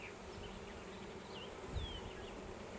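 Honeybees from a large hive hum steadily during a full hive inspection, a faint continuous insect drone over outdoor background noise.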